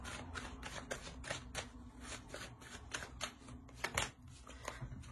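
Tarot cards being handled and drawn from a deck, giving a run of quick, crisp papery flicks and shuffling snaps at close range over a low steady hum, with no one speaking.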